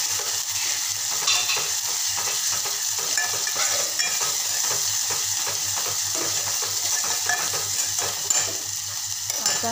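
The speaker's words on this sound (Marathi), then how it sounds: "याला छान मस्त असं तेल सुटेपर्यंत परतून घेते।" Fresh coconut and onion paste being sautéed in oil, a steady close sizzle broken by repeated soft scraping strokes as the paste is stirred, with no talk.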